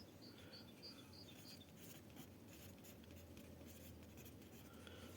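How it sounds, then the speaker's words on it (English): Pen scratching on paper while writing by hand during a solo tabletop role-playing game, a steady soft scribble close by under a faint high chirping background, with no talking. "I'll just write it here."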